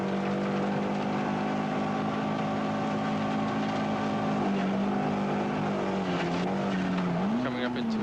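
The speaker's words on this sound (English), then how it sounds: "we'll be coming up into 5th gear any second" A rally car on a gravel stage road pulls hard through the gears, its engine drone holding steady and rising in pitch with a shift near the end, loud and continuous from inside or close by.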